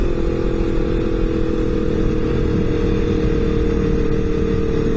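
A 1977 Yamaha XS500 motorcycle with a single carburetor on a 2-into-1 manifold and a smaller front sprocket drones at steady engine speed, loud and close with a constant buzzing tone.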